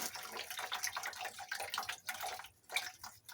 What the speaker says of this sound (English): Oh, we got a siphon there. So it's flowing out the end.